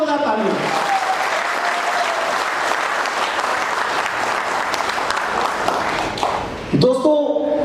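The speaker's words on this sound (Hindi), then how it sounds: "एक बार खुद के लिए जोरदार तालियां।" A seated audience at a financial awareness program breaks into loud, sustained clapping, a thick wash of applause that holds steady for several seconds before tapering off as a voice starts speaking near the end.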